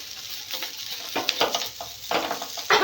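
Masala dosa cooking in oil on a pan, a close sizzle punctuated by clinks and scrapes of a utensil against the pan.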